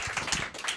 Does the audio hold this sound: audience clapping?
yes